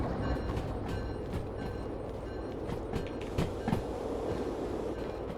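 Freight train rolling along in the railway game Derail Valley, a steady close rumble of wagons with faint clickety-clack wheel clicks and occasional brake squeal, with no talking.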